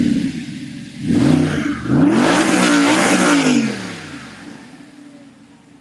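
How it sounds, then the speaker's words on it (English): A car engine revs hard for a couple of seconds, the pitch sweeping up and down across several throttle blips before settling back to a lower idle, loud and close with no voices. "We got live video of that beautiful car. It sounds awesome."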